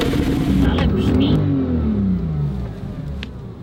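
A car engine revs up during a first drive in an automatic car, a loud, steady mid-pitched roar that rises and then eases off over a few seconds, with some voices heard alongside.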